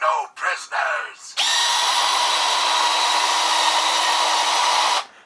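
A Robosen Megatron G1 transformer robot in tank mode drives forward with a loud, steady electric motor whine that starts abruptly and runs for about four seconds before cutting off, preceded by brief robotic voice bursts.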